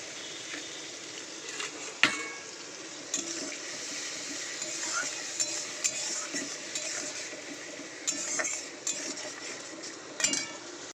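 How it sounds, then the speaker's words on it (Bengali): Fish curry spice paste with turmeric and onion being stir-fried in a pan, soft sizzling under repeated scraping and clinking of a spoon against the metal, with sharper knocks now and then, close and fairly quiet. "মাছের ঝালের মশলাটা ভালো করে একটু কষিয়ে নেব, অল্প একটু জল দেবো।"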